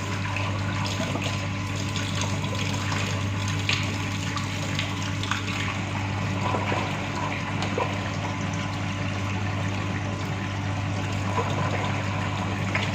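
Water jets steadily from a small orifice in a laboratory discharge apparatus, a continuous even rush and splash with a constant low pump hum beneath, no voices.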